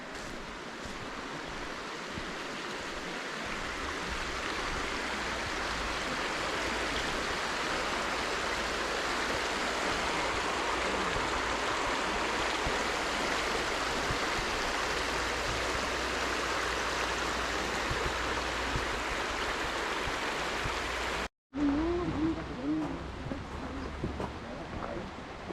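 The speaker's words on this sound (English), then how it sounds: "Never get tired of hearing this water, that's for sure." Water rushing steadily at Desoto Falls in the North Georgia mountains, a waterfall feeding a flowing stream; a loud, continuous roar that fills the whole clip, with a brief break near the end and a voice faintly over it afterward.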